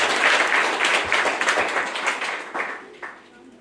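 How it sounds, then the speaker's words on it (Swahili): A church congregation at a Baptist service breaks into dense, lively applause that keeps going for several seconds, then thins out and fades toward the end. "Makofi ya shukrani kwa Bwana"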